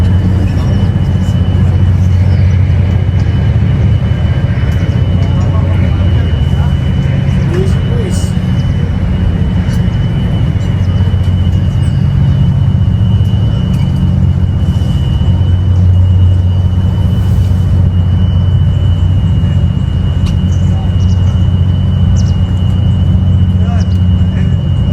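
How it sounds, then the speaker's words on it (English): A Lufthansa airliner passes low overhead near Frankfurt, a steady loud low rumble filling the whole stretch, heard in early morning from a river cruise ship during a lock passage. "plane coming right over us."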